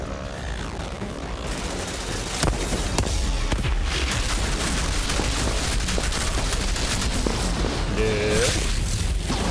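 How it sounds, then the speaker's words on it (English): Explosions and gunfire in the Outriders: Worldslayer shooter game, a dense, continuous barrage of booms and crackling bursts that keeps up loud and unbroken throughout. "That way when I swap weapons, I don't gotta worry about that explosion."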